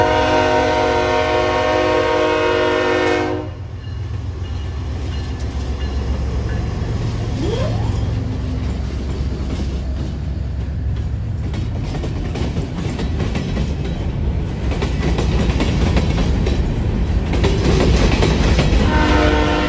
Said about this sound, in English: Here's an unknown CP grain train with a BNSF GEVO in the lead.